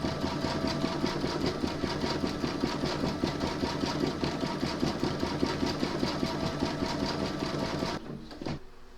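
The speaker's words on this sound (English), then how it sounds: "Load your thread for the gold detail into your machine, and then you're going to stitch round number 4" A sewing machine runs at a steady fast clip, stitching gold thread detail onto a liturgical bellpull runner, its needle clatter close and continuous before stopping abruptly near the end with a brief clunk.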